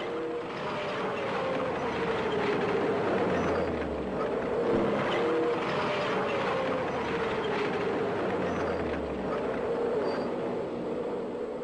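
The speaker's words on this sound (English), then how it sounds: "The tank can then move forward again." An S tank (Strv 103) moving forward gives off a continuous heavy engine drone with a rising and falling whine, loud and steady throughout with no pauses.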